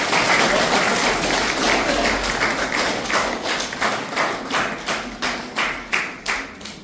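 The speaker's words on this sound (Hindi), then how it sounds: "पहले एक बार ताली बजा के दो" Audience applause at a Hindi book launch event, a crowd clapping steadily for several seconds, fairly loud and close, with the claps thinning into distinct individual strikes toward the end.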